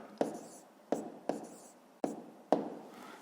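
Pen strokes of handwriting a fifth-grade maths exercise on paper: five short scratchy bursts at uneven intervals, close and fairly quiet, with no talk over them.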